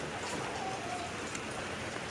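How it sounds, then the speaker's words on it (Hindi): Heavy rain falling steadily, a dense, even hiss of drops on surfaces that continues without a break, with no other sounds standing out. "बारिश काफ़ी तेज़ है और तकरीबन फजर से लगी हुई है"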